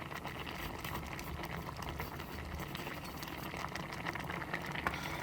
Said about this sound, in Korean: 센 불에서 끓여주세요. 끓기 시작하면 중약불로 줄이고 뒤적뒤적 해줍니다.